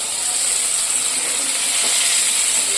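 Pakoras deep-fry in hot oil, a loud, unbroken bubbling hiss that holds steady throughout with no voices.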